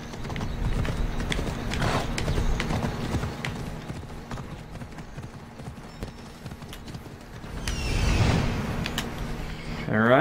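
Horse hooves clip-clop through a video game world while the game's music and effects play, with a brief whinny-like burst near the end and some talk mixed in.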